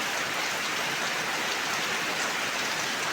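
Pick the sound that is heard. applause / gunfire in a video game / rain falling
rain falling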